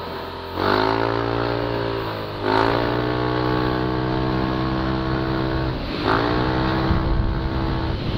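A small Yamaha NMAX 155 scooter engine with stock internals revs up close three times, each rise followed by a falling whine as it settles back to a steady idle.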